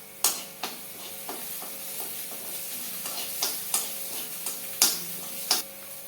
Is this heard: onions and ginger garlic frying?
yes